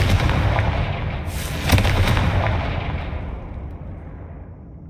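A Confringo blasting spell cast in Hogwarts Legacy, one loud booming blast that rolls and fades slowly into a long decaying rumble.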